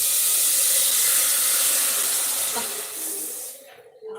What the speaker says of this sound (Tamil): பால் ஃபஸ்ட்டு ஊற்றிடுவோம்